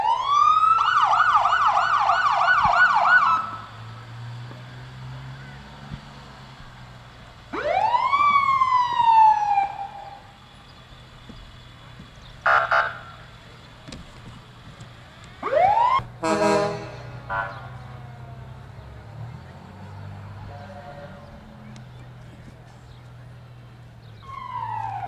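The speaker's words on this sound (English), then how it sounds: "Lake City Fire Department testing their sirens out." Police, ambulance and fire department sirens are tested one after another at a small-town parade, rising wails and short whoops in separate loud bursts with quieter gaps and low engine rumble between.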